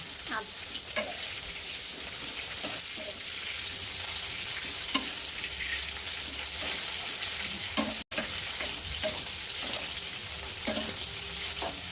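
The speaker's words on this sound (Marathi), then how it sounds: "असं भाजून घ्यायचं जास्त तेल टाकून, तळून नाही घ्यायचं" Chillies pan-roast in plenty of hot oil, a loud continuous close sizzle with occasional stirring clinks and spatters throughout.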